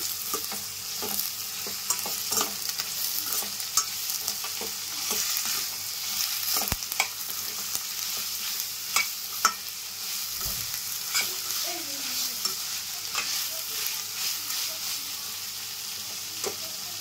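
Mutton with ginger garlic paste and a handful of cashews stirred and fried in a pan, steady sizzle with scraping spoon strokes throughout, no talk.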